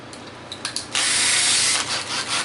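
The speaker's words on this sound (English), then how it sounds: "You're going to drill a hole in each one, pre-drill them." Power drill boring pilot holes with a 1/8 inch bit into a Harley-Davidson saddlebag lid during a cut-in lid kit install; a few short bursts give way to a sustained loud whirring run with slight speed changes, alone without talk.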